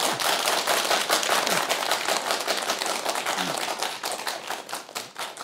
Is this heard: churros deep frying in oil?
no